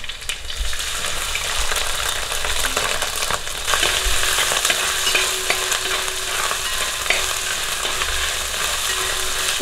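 Crushed ginger and garlic with green chillies fry in hot oil for a chicken curry, giving a dense, constant sizzle with scraping stirs and a few sharp spatters close by.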